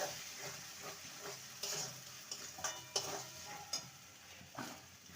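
Green peas with turmeric and salt are stirred in a pan over a soft, faint sizzle, with light scrapes and taps of the spoon scattered through it.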